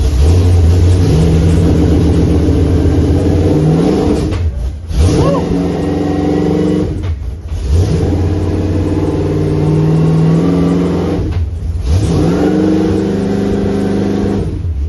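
A NASCAR race car engine roars loudly and close as it accelerates through the gears, its pitch climbing in several long pulls, each broken by a brief dip at the shift before rising again.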